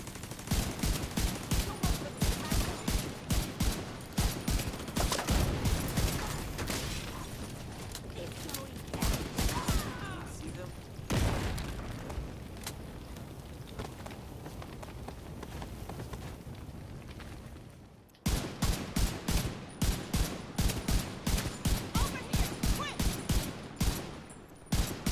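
Rapid automatic gunfire from The Division 2 crackles in long, evenly spaced bursts, loud and close, pausing briefly in the middle before resuming with sharp regular shots.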